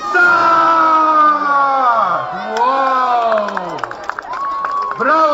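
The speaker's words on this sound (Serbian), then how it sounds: "može jedan aplauz još jači da čuje, da čujemo svi zajedno" A crowd of children cheers and applauds at a Christmas street event in Belgrade. Loud shouting voices carry over scattered claps, and the claps grow sharper toward the end.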